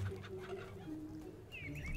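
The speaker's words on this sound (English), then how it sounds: "Hey, were all these chickens once people?" Chickens clucking in the video game Fable Anniversary, soft intermittent clucks and a few higher chirping calls at a low level, with no talk over them.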